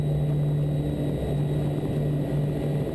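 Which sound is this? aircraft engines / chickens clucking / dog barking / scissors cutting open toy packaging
aircraft engines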